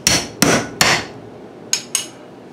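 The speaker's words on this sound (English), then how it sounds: "smash it up a little bit with a hammer directly" Five sharp hammer strikes smash sweet gum seed pods on a cutting board, three close together then a pause and two more, loud and close with no talk.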